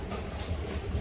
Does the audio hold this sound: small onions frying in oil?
no